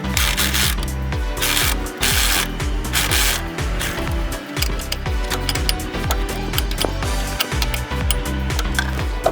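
Ratchet working a nut on a pulley of a Jeep Cherokee 4.0 engine during a water pump job, a loud, continuous run of rapid clicking and rasping strokes with no talk.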